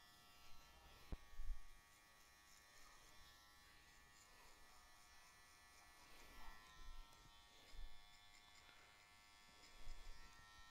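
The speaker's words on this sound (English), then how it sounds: "I come and I add the final pop with the shaver" An electric shaver adds the finishing touch to a haircut during a live barbering class, giving off a steady, faint buzz with a few short louder bursts as it touches the head. No one speaks.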